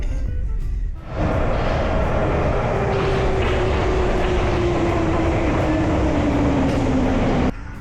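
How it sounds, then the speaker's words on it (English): A train rolls in steadily and loudly for several seconds, a sustained rumble with a slowly falling whine, ending abruptly. "I want to get a shot of like the train coming in"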